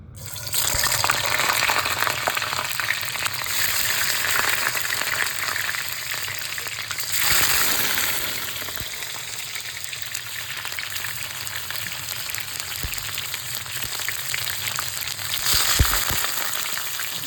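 Peppers frying in hot oil, a loud, continuous close-up sizzle with bubbling hiss that swells a few times as pieces are moved.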